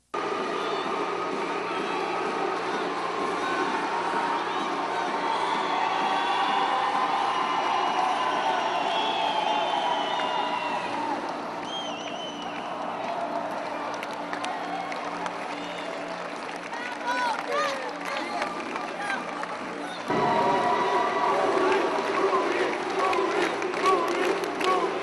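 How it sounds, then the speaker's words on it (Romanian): A large crowd roars with sustained cheering and applause as sports players are introduced, a dense continuous wall of noise with voices shouting throughout. "Au curs ropote de aplauze la prezentarea jucătorilor."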